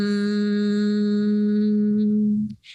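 A single steady closed-mouth hum holds one low pitch for over two seconds, close and loud, then stops with a soft breath.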